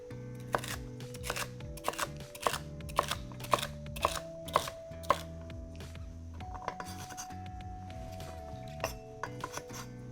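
A knife chops celery on a cutting board in a home kitchen, giving a steady series of crisp, close knocks in quick rhythm, with sustained music tones humming underneath and no talking.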